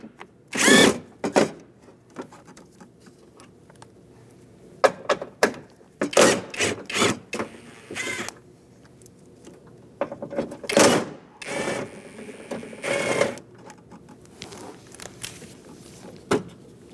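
A power drill fitted with a 10mm socket backs out door panel bolts on a 2004-2012 Chevrolet Colorado, several short whirring bursts separated by pauses, close and fairly loud in a quiet garage.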